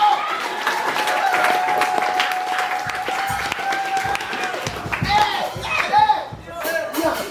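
A church congregation applauds during a pastor's sermon, scattered claps and hand slaps rising and falling with crowd noise while voices call out and talk over them.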